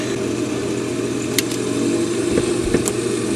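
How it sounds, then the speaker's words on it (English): Simulated engine of a Piper PA-28R Turbo Arrow in a home flight simulator game, a steady droning hum running continuously at moderate loudness with a few brief clicks over it. "Sounds more like a real airplane."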